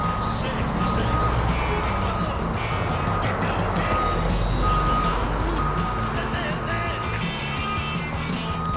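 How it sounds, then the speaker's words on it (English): A 2016 Entegra Anthem motorhome reverses slowly into a workshop, its reversing beeper repeating steadily over the continuous low rumble of the engine, close and fairly loud throughout. "So he's just reversing it into the workshop to have this wheel looked at."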